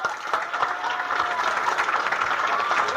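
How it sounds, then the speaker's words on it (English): Comedy club audience in Sacramento breaking into steady applause for a headlining stand-up, a dense wash of clapping with faint cheering throughout. "Let's have a big round of applause for Jerry Sienfeld."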